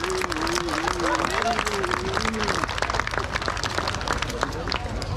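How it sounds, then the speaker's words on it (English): An audience at a combat fight event claps after a three-versus-one bout. The steady, dense applause is close and continuous, with a voice talking over it. "Round of applause, ladies and gentlemen."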